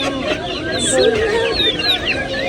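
Broiler chickens clucking at a poultry market, several birds chattering and calling close by under a busy background of people talking.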